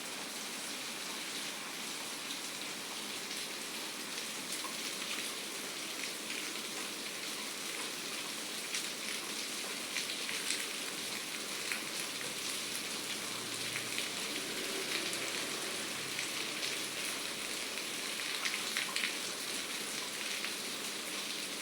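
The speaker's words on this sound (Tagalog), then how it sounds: "Lakas ng ulan, no, ma?" Heavy rain pours down steadily on a house with a leaking roof, making a dense, unbroken hiss that stays loud and even throughout, with no voices.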